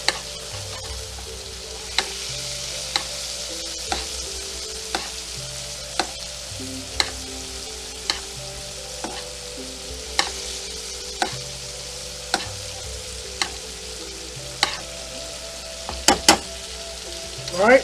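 Scallops basting in sizzling brown butter with parsley in a pan: a steady close frying hiss with a rhythmic series of spoon taps and scrapes roughly every second, ending in a few sharper clinks.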